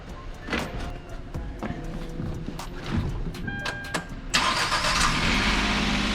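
A kei truck engine cranks and starts up after a fresh battery install, then catches and runs loud and steady, with a rougher burst of engine noise near the end.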